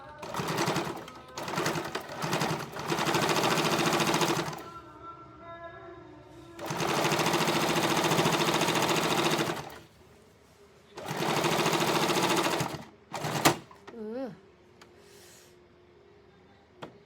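A sewing machine stitches a king-size bed sheet in long, rapid whirring runs, stopping and restarting several times with quieter gaps and a few clunks between passes, loud and close.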